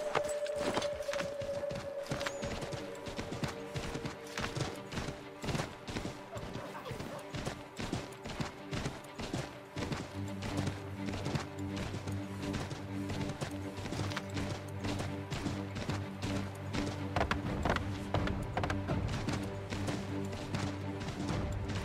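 Horse hooves clip-clop steadily in Assassin's Creed III, a rhythmic run of sharp knocks over a game soundtrack with low sustained tones, continuing for the whole stretch.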